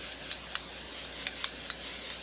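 Canola oil sprayed from a can onto a skillet for baked oatmeal, a series of short hissing spritzes over a soft steady background hiss, close by with no talking.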